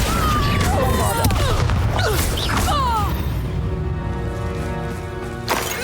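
Bombarda blasting spells explode in the Hogwarts Legacy video game, loud booming crashes and rattling bursts of combat with sweeping magical whooshes, a voice calling out over the chaotic fight.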